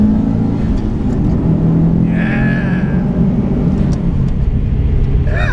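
A modified 2007 Subaru STI accelerates through a tunnel, its engine a loud, steady, booming roar that echoes off the walls throughout.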